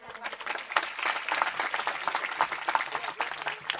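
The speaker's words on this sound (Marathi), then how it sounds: "येऊ द्या प्रतिसाद टाळ्यांचा." A kirtan audience breaks into sustained applause, dense clapping that continues steadily for a few seconds with no speech on top.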